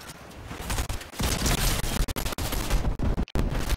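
Rapid, loud shotgun blasts in Fortnite in dense bursts, punctuated by short gaps, close and harsh with no voices.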